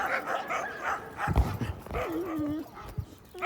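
Several dogs bark and yip in quick, uneven bursts, fairly close, with a whining, wavering cry drawn out between the barks.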